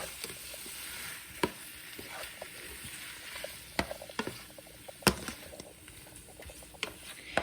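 Shrimp fry with garlic in a pan for chipotle cream shrimp, a soft continuous sizzle under scattered sharp clicks and knocks of a utensil moving things around, close and fairly quiet with no talking.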